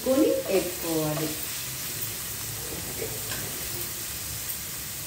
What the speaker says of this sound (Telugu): ఇలాగా మనం కాయగూరలతో పాటు వేసిన జీడిపప్పు కూడా మంచి గోల్డెన్ కలర్లో వేగిపోయింది